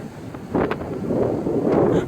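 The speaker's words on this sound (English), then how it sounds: "Man, check out this mad wind." Strong wind roars and buffets the microphone, rising and gusting across the short stretch, with no voices.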